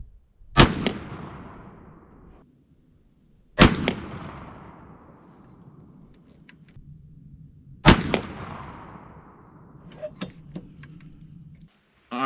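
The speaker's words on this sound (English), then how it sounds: "We're going to start off with 50 grains of powder. We're going to do 3 shots" A muzzleloader rifle fires three sharp, loud shots with 50 grains of powder, spaced several seconds apart outdoors, each followed by a decaying echo and faint background noise between.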